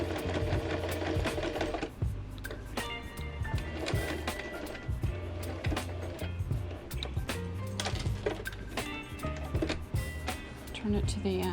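An electric sewing machine stitches fabric for a paint brush holder, running in steady, rapid bursts with brief pauses and mechanical clicks between runs, close and continuous throughout, with a voice talking faintly over the sewing.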